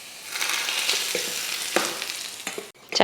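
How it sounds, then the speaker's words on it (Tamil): Hot tempering of mustard seeds, urad dal, shallot and curry leaves poured into coconut chutney, a loud sudden sizzle that crackles and pops, then settles before a brief clatter at the end; no voices. "சட்னிக்கு அருமையாக தாளித்து ஊற்றியாச்சு"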